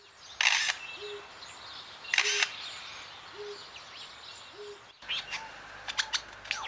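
A wild Australian bird mimics a camera shutter with sharp mechanical click bursts, repeated twice, between soft short whistled notes, followed by fast chirps and calls at close range.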